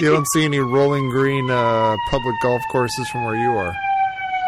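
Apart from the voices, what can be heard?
emergency vehicle siren outside in Chicago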